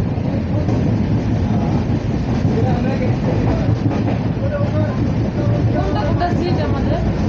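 Moving train from Dibrugarh to New Coochbehar heard from inside the carriage, a loud continuous low rumble and rattle throughout.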